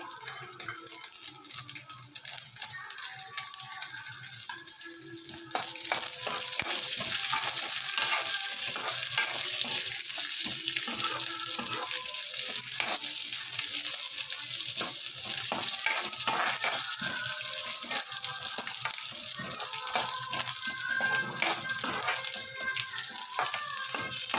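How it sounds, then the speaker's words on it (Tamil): Raisins fry and bubble in a pan of hot oil or ghee for a Vishu festival dish, giving a steady close sizzle with soft stirring scrapes that grows busier after the first few seconds and carries on alone. "திராட்சை பாருங்க பபிள்ஸ் ஆகிடுது."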